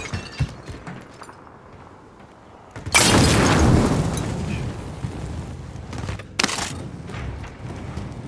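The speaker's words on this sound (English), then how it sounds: "Throwing grenade!" A loud grenade blast erupts in the video game Call of Duty Warzone after a quiet stretch, followed by a rumbling decay and a second sharp burst a few seconds later.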